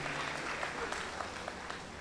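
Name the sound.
audience applause at a school leaving ceremony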